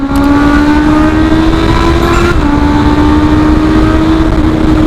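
A 2021 Honda Forza 350 scooter engine pulls hard in a loud, steady drone whose pitch climbs, dips briefly at a gear or throttle shift, then rises again, with heavy wind rumble underneath and no talking.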